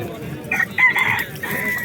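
A rooster crows at a busy poultry market, one short strained crow near the microphone with clucking and market chatter behind it.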